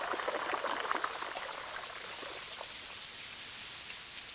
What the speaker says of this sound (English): Spouts on the roofs channel rain into 2 courtyards.